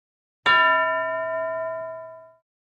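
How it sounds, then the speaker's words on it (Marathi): A school classroom bell is struck once with a sharp metallic clang, then rings out in a clear, sustained tone that decays steadily over about two seconds. No one speaks. "टीचर, घंटा वाजली की एका मुलाला उभं करा आणि पाठ वाचायला सांगा"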